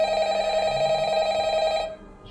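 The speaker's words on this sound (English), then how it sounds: "of course, the phone had to ring." A telephone rings with a steady, loud electronic bell tone for about two seconds before cutting off, indoors, with no talking over it.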